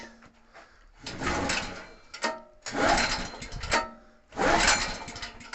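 A petrol engine is cranked in three separate loud bursts, each rough and mechanical, with short quiet gaps between them. It never catches and runs, and no one speaks.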